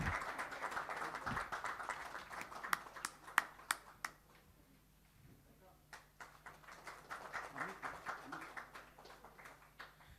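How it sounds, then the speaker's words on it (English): At an IT conference, scattered, fairly faint claps ring out in a few sharp bursts over a low murmur of people talking in the hall. "A big round of applause."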